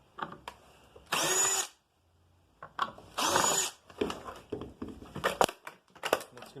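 A power drill backing out Phillips screws while a small circuit board assembly is being taken apart, heard as two loud bursts of whirring close by, then shorter clicks and clatter of the screws and parts.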